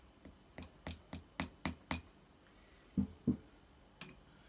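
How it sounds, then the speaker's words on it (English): A socket extension gently taps an O-ring seal into a salon chair hydraulic pump: a run of six light metallic taps, then two firmer knocks and a faint final tap, close and isolated. "Just gently tap that seal in, that O-ring in."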